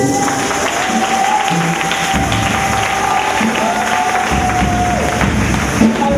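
A church congregation applauding and acclaiming the Lord during a French-language sermon, a dense continuous wash of clapping and crowd voices filling the space, loud and sustained throughout.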